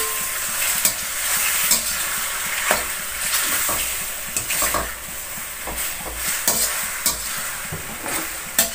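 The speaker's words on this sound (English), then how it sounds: "in the great Italian style, you add the sauce, you give this a quick reheat" Rigatoni and Bolognese sauce sizzle steadily in a hot pan while being stirred and reheated, with repeated scraping, clicking strokes of a utensil over a continuous frying hiss, close and fairly loud.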